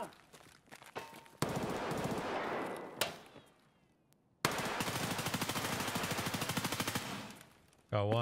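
Rapid automatic gunfire from the video game Escape from Tarkov, two long loud bursts separated by a short gap, with a few scattered single shots before them and a brief voice at the end.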